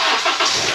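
A Honda CR-V Earth Dreams engine starts with a timing tensioner rattle on a cold start. A short, loud, close burst of engine noise, with a harsh rattling start that quickly settles.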